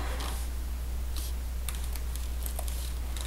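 Someone types quickly on a computer keyboard at close range, producing quick bursts of light key clicks over a steady low electrical hum, with no talking.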